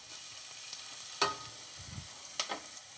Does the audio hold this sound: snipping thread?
no